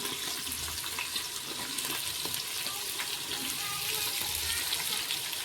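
Onion dropped into hot oil where sliced chillies have already been fried, giving a steady, dense sizzle and crackle that runs evenly and fairly loud throughout, with no talking.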